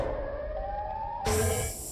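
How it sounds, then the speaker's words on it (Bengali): A siren blares from the Siren Head creature in a Hulk versus Siren Head video game, a steady wailing tone that shifts abruptly partway through to a louder, harsher burst, with no talking. "সাইরেন হেডের 12টা বেজে গেছে দেখো ভাই, তাও আওয়াজ বাদ দিচ্ছে না, পো পো করে বাজছে ভাই।"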